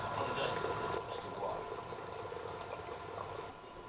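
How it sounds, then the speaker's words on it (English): A gas-fired homemade still with water cooling runs while distilling cornflakes whiskey. It gives a steady, fairly loud hiss with a faint bubbling, boil-like wash underneath that holds level for the whole stretch and eases slightly near the end. "Now it's just a matter of letting the still run."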